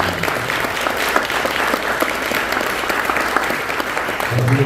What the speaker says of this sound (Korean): 우리 노 목사님께도 뜨거운 박수를 한번 여러분